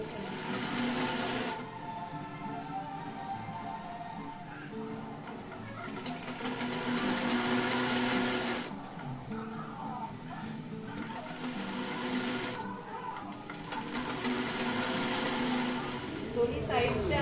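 A sewing machine runs steadily while stitching the side seams of an A-line kurti from the top to the sleeve ends. The motor whirs close by with brief pauses between runs, and a voice talks over it.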